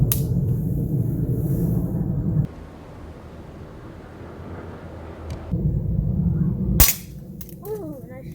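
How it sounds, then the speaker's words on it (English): Sharp pops from an Umarex HK VP9 CO2 blowback BB pistol fired at cans, one loud crack standing out over a rumbling, windy outdoor background with a few quieter shots around it. "Now we're just gonna load this up with CO2 and try it out. All right, guys, I'm gonna shoot some cans."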